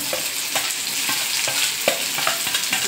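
Cumin, grated ginger and green chili sauté in a hot pan after the mustard seeds have popped, giving a steady close sizzle broken by soft stirring scrapes at irregular moments.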